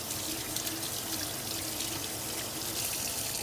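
Tap water runs steadily while a spoon is rinsed at a vacation rental sink, a continuous close hiss and trickle with no talking.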